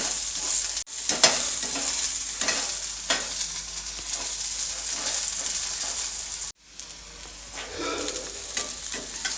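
Okra fries in a pan on a stove, a steady bright sizzle with intermittent stirring scrapes, close and fairly loud, briefly dipping at a couple of moments.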